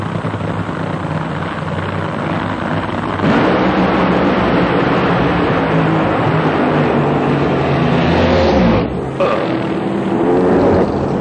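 Drag racing cars at a 1997 NHRA Pennzoil Nationals event roar down the strip, a loud continuous engine blast that swells, then cuts briefly near the end before picking up again, with no speech over it.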